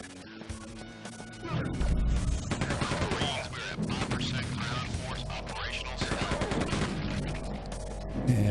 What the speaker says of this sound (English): Machine gun can actually tear people up pretty good.